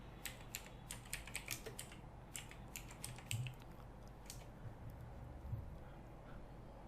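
Quiet keystrokes on a computer keyboard type a search term, coming as rapid bursts of sharp clicks with short pauses over faint room noise.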